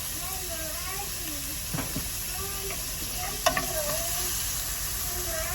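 Onion sizzling and frying in a pan while cooking adobong hipon at pusit, a continuous bright hiss with a few stirring clatters and utensil taps, close by, with faint voices in the background.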